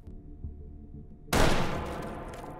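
Gunfire in the VR shooter H3VR bursts out suddenly after a quiet stretch, a loud rapid volley that trails off into echoing shots.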